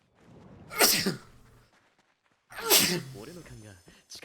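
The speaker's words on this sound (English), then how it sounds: "I gotta sneeze." Two sharp, loud sneezes burst out close to the mic, the first one short and the second with a breathy voiced tail, with a quiet pause between them.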